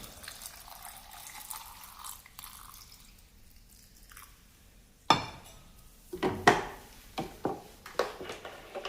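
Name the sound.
boiled cooled salted water poured into pickle jar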